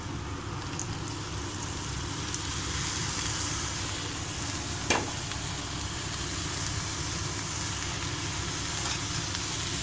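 Cauliflower with salt and chili fries in a pan under a broad, steady sizzle, with one brief clack of the spatula midway and little sign of stirring otherwise.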